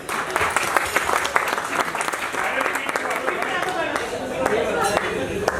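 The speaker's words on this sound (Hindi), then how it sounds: "डीके और सुजाता के लिए ढेर सारी तालियां।" Crowd applause fills a corporate star night stage event, dense sustained clapping with scattered louder claps, steady throughout with voices faintly mixed in.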